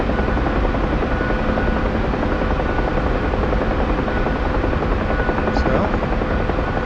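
Helicopter rotor and engine drone in a flight-simulator game, a steady loud whirring hum over a city flight that holds throughout, with a voice talking over it.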